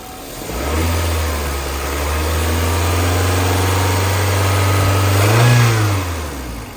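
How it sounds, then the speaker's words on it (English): A car engine idles steadily, then revs up smoothly and climbs in pitch before easing back down, loud and close. "So when Zach revs it up a little bit,"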